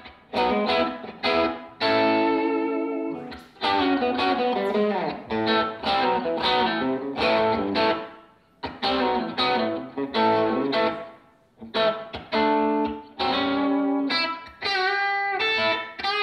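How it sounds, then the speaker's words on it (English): Distorted electric guitar through a Traynor tube amp plays chords and riffs in bursts with short pauses, loud and gritty, with no voices. "this amplifier is a great distortion amp"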